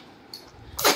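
A baby girl gives a single short, sharp sneeze at the very end after a quiet moment, close and fairly soft.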